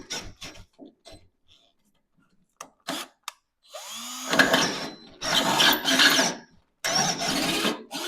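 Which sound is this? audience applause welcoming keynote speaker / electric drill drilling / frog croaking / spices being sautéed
electric drill drilling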